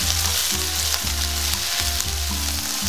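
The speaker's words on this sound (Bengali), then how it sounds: "দিয়ে দেবো এখানে আমরা আদা রসুন চপিং, আর দিয়ে দেবো কাঁচা লঙ্কা। সবগুলো একটু ভালো করে ফ্রাই করে নেব।" Chopped ginger, garlic and green chili with cumin fry in hot oil, giving a loud, steady sizzle that keeps on without a break, along with rhythmic scraping as the mix is stirred, and no voices.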